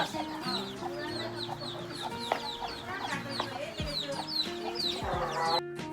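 Several chickens cluck and chatter continuously, close by, with a rooster-like call mixed in among busy farmyard bird sounds.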